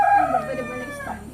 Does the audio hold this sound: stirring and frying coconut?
no